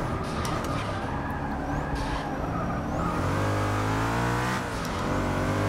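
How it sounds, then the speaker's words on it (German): A Mercedes-Benz race car in Forza Motorsport 6 accelerates hard, its engine revving through rising, sweeping pitches in a continuous loud roar with brief skidding tones, no voices over it. "Und der Benz, der beschleunigt uns halt jedes Mal wieder aus."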